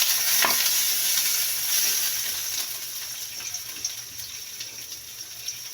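Meat ingredients for a simple Filipino dish sautéing in a pan give a steady, close hiss and sizzle with a few faint clinks, holding constant and easing slightly toward the end, with no talking.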